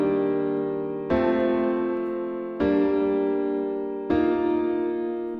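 Four sustained synth or keyboard seventh chords in a Heart Melter progression, each struck about every one and a half seconds and left to ring and fade before the next, bright and full with no voices.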